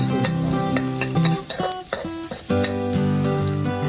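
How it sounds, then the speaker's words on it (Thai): Steady crackling sizzle of crushed garlic frying in a hot pan, close up, with musical tones playing underneath throughout. "ตั้งกระทะนะครับแล้วเรากระเทียมโขกลงไปครับ เดี๋ยวเราจะเทียม เจียวกระเทียมร้อนๆนะครับ"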